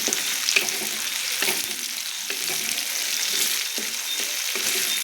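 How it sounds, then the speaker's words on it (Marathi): Chopped green chili and garlic fry in a pan with a dense, steady crackling sizzle, broken by light periodic stirring taps, heard up close and fairly loud with no speech. "हे बघा, आता लसूण आणि मिरची छानशी भाजून झालेली आहे।"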